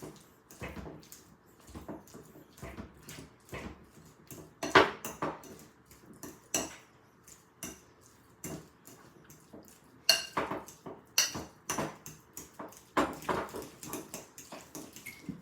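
A metal fork mashes avocado for guacamole in a bowl, producing a string of irregular soft squelches and sharp clinks of tines against the dish, close and fairly quiet with short pauses between strokes.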